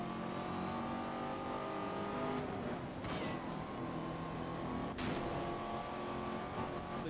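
A Corvette driven in Need for Speed: Most Wanted gives a loud, steady engine drone, with two sharp bursts of noise partway through.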